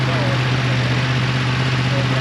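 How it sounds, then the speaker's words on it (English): A Triumph motorcycle engine idling steadily at a busy bike night, a constant low throbbing rumble close by with no change in revs throughout. "That's a great sounding engine, that is."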